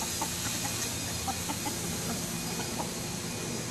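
Chickens cluck in a steady, dense barnyard chorus, with scattered short calls over a constant noisy background.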